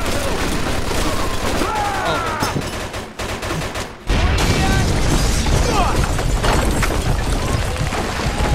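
In the Mafia 2 video game, a grenade blast and heavy gunfire make a dense, loud, continuous roar of shots and booms, with a brief dip before another sustained burst.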